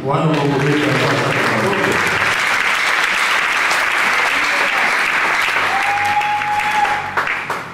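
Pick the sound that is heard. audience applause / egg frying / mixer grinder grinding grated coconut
audience applause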